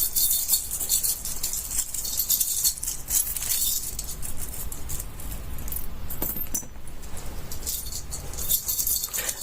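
Small fortune-telling charms jangle and clink as they are cast for a reading, a steady close metallic rattle with bright tinkling accents throughout and no talking.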